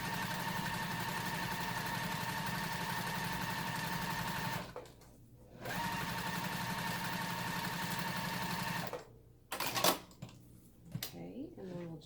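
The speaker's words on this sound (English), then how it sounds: "I'm going to lay it right side on, lining up my edge over here, and sew with a 1/4 inch seam allowance." A sewing machine runs in a steady fast hum while stitching quilt fabric strips with a quarter-inch seam, pausing briefly midway and stopping near the end amid light handling noises.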